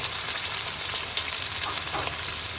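Onions sauté in a pan for a prawn curry, giving a close, even, continuous sizzle with faint stirring scrapes and no voices.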